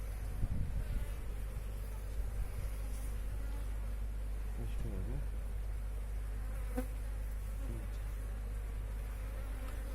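Honeybees hum in a constant, low buzzing swarm at a hive, steady and fairly faint, with a few nearer bees droning past; no talking.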